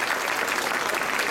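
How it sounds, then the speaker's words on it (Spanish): Dense crowd applause fills the whole moment, a steady wash of many hands clapping together at an afternoon concert, loud and even throughout. "Con más ánimo, por favor, un fuerte aplauso."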